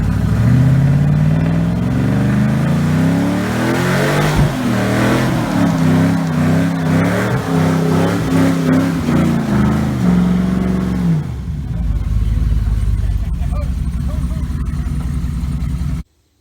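An all-wheel-drive hot rod with its engine revving and accelerating, a loud, close, steady drone whose pitch climbs and shifts through several gear-like steps before settling into a deeper rumble near the end.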